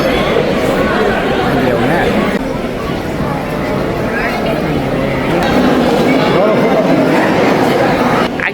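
Train packed with a heavy crowd near a furniture fair in Coimbatore: dense crowd chatter and overlapping voices over a continuous rumbling rail noise, loud and close throughout.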